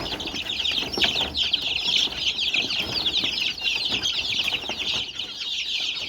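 Many chicks cheep and chatter continuously in a high, busy chorus, close by, with occasional rustling and soft clucks beneath.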